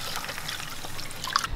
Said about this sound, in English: I fill the water.